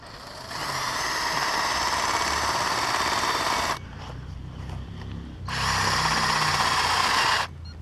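A power drill drives self-tapping screws while building a tower, making two long, steady, high whining runs up close, separated by a brief quieter gap.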